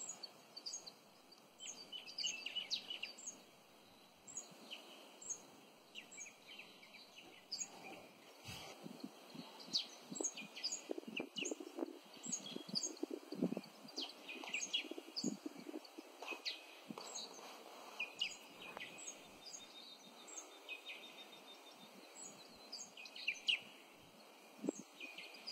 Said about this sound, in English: The birds are happy that a brand new day is dawning.